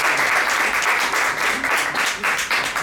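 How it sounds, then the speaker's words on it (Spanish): A studio audience on a Spanish talk show bursts into loud, dense applause, a continuous close roar of clapping with no speech over it. "Otro aplauso"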